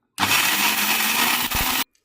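A mixer grinder whirs loudly and steadily for under two seconds grinding roasted jackfruit seeds, a dense high-pitched motor roar with grinding rattle, starting and stopping abruptly.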